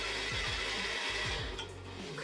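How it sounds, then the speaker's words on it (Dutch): A blender motor whirs steadily with rhythmic thumping and a quick stop partway through, running at low speed while mixing vegan cheesecake filling. "Dat is wel een goeie om het in de blender te doen."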